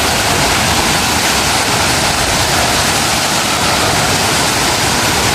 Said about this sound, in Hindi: देखने में नहीं लगता लेकिन तो ज़्यादा प्रेशर से पानी गिर रहा है।